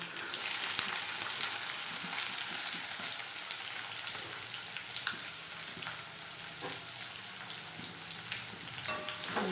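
Onion frying in a pan with ginger and garlic for a potato roast, giving a steady, close, continuous sizzle and crackle with small pops throughout.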